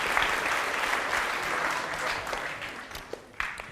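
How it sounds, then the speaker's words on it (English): Audience clapping throughout, dense at first and thinning out toward the end, with a few isolated claps and a faint voice near the close. "let's give our volunteers a great round of applause for finding the primes"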